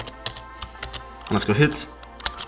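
Fast clicking keystrokes on a computer keyboard while entering a Minecraft Bedrock command, crisp and close, with someone talking over part of the typing.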